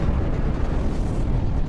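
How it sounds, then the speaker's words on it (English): Glacier ice calving and crashing into the sea, a heavy continuous roaring rumble with a low, thundering, booming body. "these rivers of ice are flowing faster and crashing even more spectacularly into the sea"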